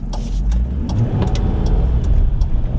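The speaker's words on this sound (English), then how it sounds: "And the engine, man, it sounds so good." A Lincoln LS V8 with its factory exhaust rumbles nearby, a deep, steady engine note with a slight rise as it revs, punctuated by a few sharp clicks and knocks from around the car.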